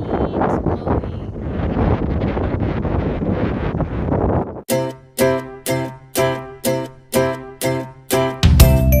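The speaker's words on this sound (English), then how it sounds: "The wind is blowing." Wind gusts roar across the microphone beside Lake Samsonvale in Fordan Park, a steady buffeting rush for several seconds before giving way to a run of evenly spaced pulsing tones.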